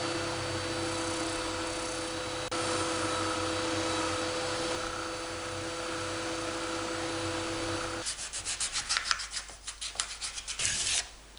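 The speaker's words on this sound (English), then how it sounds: "Here I'm sanding the handle." A small wooden handle for an octagon-shaped box being sanded. A steady loud whooshing grind is followed by quick, irregular rasping strokes near the end, with no voices.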